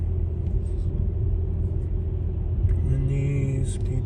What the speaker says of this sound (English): Is it the car behind us that makes all that noise?